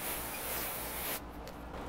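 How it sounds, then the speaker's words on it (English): Water sprays onto a coated car hood in a steady, close hiss that cuts off sharply partway through, leaving only quieter background noise. "I'm going to spray the hood"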